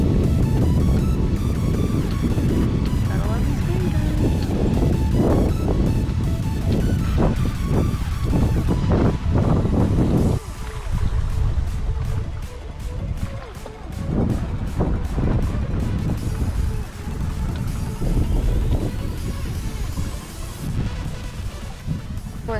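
Strong wind and water rushing around a sailboat sailing a wind storm on Lake Ontario with a double-reefed mainsail, a loud constant roar with gusts and buffeting across the whole stretch.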